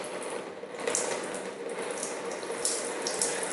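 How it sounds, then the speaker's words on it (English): Transmission oil drains steadily out of a car with an automatic transmission, a continuous, fairly close hissing trickle with faint clinks on top. "when I have drained out all of these oils, we continue"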